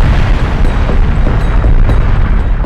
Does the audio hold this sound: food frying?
no